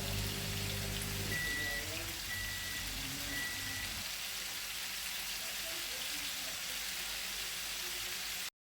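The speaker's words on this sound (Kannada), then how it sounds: "ಎರಡು ಕಡೆಯಿಂದಲೂ ಸರಿಯಾಗಿ ಫ್ರೈ ಮಾಡಬೇಕು ಕ್ರಿಸ್ಪಿ ಆಗುವ ತನಕ" Fish coated in masala fries in a pan with a steady, crackling sizzle that holds evenly throughout, close and moderately loud, with a few brief beeps and low hum early on.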